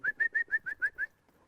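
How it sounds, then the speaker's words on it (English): Seven short, sharp whistle blasts in quick even rhythm, close and fairly loud, given to steer a hunting dog out in the field, then quiet. "I'll whistle her and make her run."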